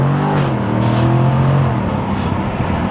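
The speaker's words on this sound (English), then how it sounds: "when you downshift as well, it'll crack and pop" Jaguar F-Type 5.0 V8 exhaust crackling and popping on a downshift in first gear, a loud close engine note with rapid pops and a brief rising rev.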